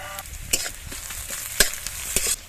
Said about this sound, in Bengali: তেলটা গরম হয়ে গেছে, দিয়ে দেবো 5 ফোড়ন, পেঁয়াজ কুচি।